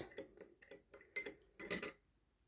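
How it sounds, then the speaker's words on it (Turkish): A spoon dissolving honey in water clinks and taps lightly against a glass or cup, a string of short, quiet strikes that ends in silence. "Şöyle bir tatlı kaşığına yakın balımızı suyun içerisinde iyice çözdürüyoruz."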